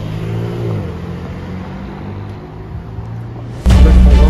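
A BMW M3 Touring's engine revs hard at close range on a Monaco street, first a steady low rumble, then a sudden loud surge near the end that stays strong.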